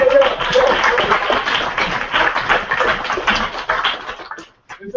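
Audience at a live poetry reading night at Interzone in Corvallis, Oregon, clapping in a dense, sustained burst of applause with scattered cheers and whoops, then thinning out into a few final claps near the end.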